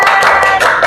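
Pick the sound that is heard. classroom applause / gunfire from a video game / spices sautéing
classroom applause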